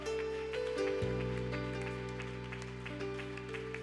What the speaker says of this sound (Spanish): Fuerte ese aplauso para Él en esta mañana